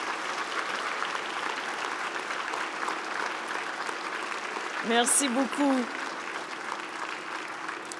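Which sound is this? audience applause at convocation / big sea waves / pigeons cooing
audience applause at convocation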